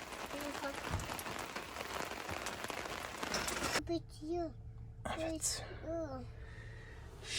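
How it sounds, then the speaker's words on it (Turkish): Steady rain patters on a surface close by for several seconds at a forest lakeside caravan camp, then continues softly beneath someone talking and singing. "güzel bir yağmur var"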